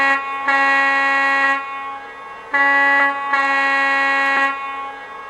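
A Lionel model Milwaukee Road S3 4-8-4 Northern locomotive's horn blows two long, steady harmonic blasts, each with a slight stutter, loud and close with no other sounds.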